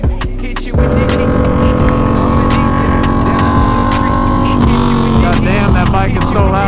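A loud motorcycle engine revs hard and close, a roaring steady drone that surges after a brief dip and holds with shifting pitch, with music and a voice faintly underneath.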